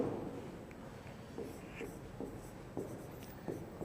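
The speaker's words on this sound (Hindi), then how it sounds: "इसमें यहाँ पे लिख देता हूँ मैं" Chalk or marker writing on a classroom board during a maths lesson: a series of short scratchy strokes at an even pace, fairly faint against a quiet room.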